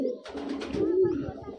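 A single soft coo from high flying pigeons in a loft, among Kalduma, Teddy and Kal Petia breeds, brief and fairly close over faint background noise.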